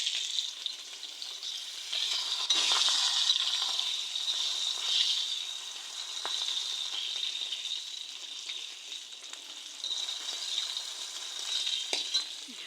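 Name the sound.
fish frying in a pan, being flipped one by one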